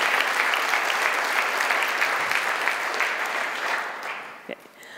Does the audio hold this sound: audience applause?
yes